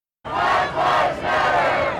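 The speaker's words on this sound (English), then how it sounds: "They were chanting and waving signs." Close to a hundred protesters chant in loud rhythmic bursts outside San Diego Police headquarters, with crowd voices rising and falling in waves.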